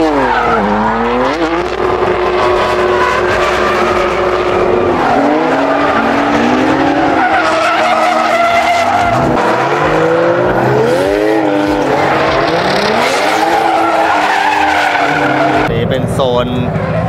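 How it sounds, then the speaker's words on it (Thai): Cars drift at a Japanese Skyline R34 festival, loud tire squeal and skidding with revving engines sweeping up and down, continuous and close, with the whine rising and falling through the whole stretch. "ดริฟต์นะครับ"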